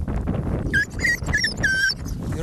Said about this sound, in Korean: 이렇게 낑낑낑낑만 거리지 사람한테 공격을 하질 않아요